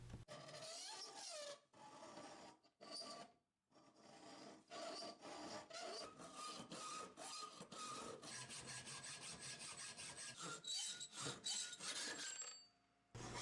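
Hand-cutting a long, skinny rectangular knife blank from 1095 carbon steel without power tools, heard as steady rasping hacksaw strokes in a continuous rhythm, with a few brief pauses, close and alone.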